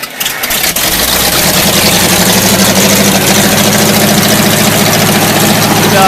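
A Hemi-powered Katolight generator engine cranks briefly, then catches and settles into a loud, steady idle with a constant low rumble and mechanical clatter, close by and alone with no talk.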